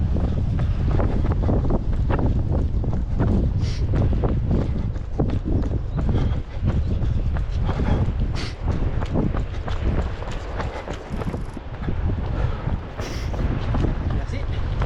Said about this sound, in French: on se prend le vent en pleine face